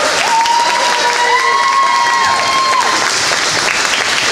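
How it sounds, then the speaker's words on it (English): A crowd at a women's basketball game, honoring a senior player, applauds and cheers loudly throughout, a dense continuous roar with a whistle-like tone rising above it early on. "Let's give a big round of applause for number 3, Lydia York."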